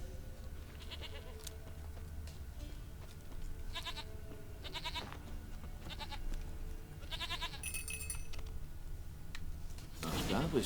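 Audio from The Witcher 3: Wild Hunt with several short goat bleats scattered over a steady musical background, with rhythmic ticking and a louder burst near the end.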